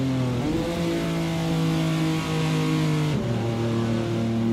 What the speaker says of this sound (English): At 50 miles an hour, the engine sounds like it's gonna fall apart.